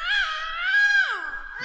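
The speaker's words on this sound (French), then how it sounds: "Depuis tout à l'heure, elle n'arrête pas de crier dans l'église." A young girl lets out a long, sustained, high-pitched shout inside a church, tonal and wavering before sliding down at the end, loud and close with a reverberant tail.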